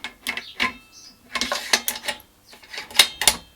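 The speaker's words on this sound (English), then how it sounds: "Let's see if we can pop the bolt in now." Metallic clicks, slides and clacks come as the bolt is fitted into an Accuracy International AT-X rifle in 6.5 Creedmoor. The close, crisp mechanical sounds come in short irregular bursts with quiet gaps between them.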